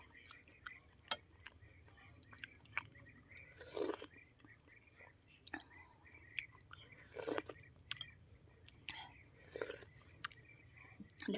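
Someone chews cooked young pumpkin close to the microphone, making soft wet crunches and bites in irregular bursts, with faint whispered speech in between.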